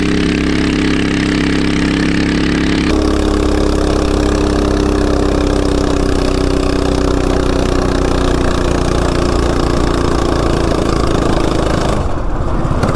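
A CT200U-EX mini bike fitted with a 420 big block engine runs loud and close, its steady idle shifting pitch slightly after a few seconds and holding a constant drone until a brief dip near the end.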